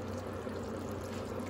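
Hot water from a kettle is poured into a potato and meat curry, making a steady, close, continuous pouring and trickling sound for under two seconds with no talking.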